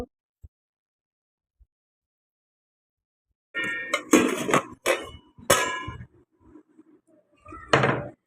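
Rice being stirred in a cooking pot: after several seconds of near silence, a spoon clatters and knocks against the pot in a burst of sharp, close strikes, then falls quiet before one last clank.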